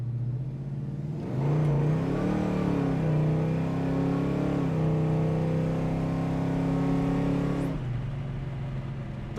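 A 1971 Chevrolet Chevelle with a 396 engine accelerates for several seconds, its engine note climbing steadily through the gears as a smooth, sustained roar heard from inside the car, then settling back to a lower hum.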